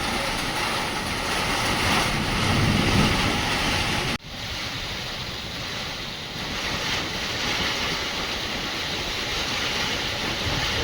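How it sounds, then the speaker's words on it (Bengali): Heavy rain drumming on a tin roof during a strong storm with gusting wind, a loud, dense and continuous roar filling the whole clip, briefly dipping after a sharp jolt before resuming steady. "পিছনের থেকে এত আওয়াজ হচ্ছে, টিনের মধ্যে পড়ছে বৃষ্টি"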